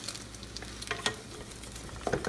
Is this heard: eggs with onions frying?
yes